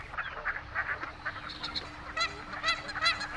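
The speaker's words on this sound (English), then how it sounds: "Canada geese are America's most common waterfowl." Canada geese honk repeatedly at a California ranch pond, a flock of harsh, nasal calls rising in overlapping bursts at moderate distance over quiet background noise.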